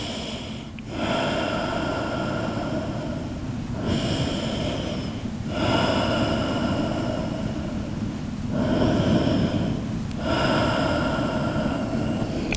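Deep, slow breaths drawn in and pushed out during a post-workout yoga stretch, four long cycles in a row, close and steady with no talking.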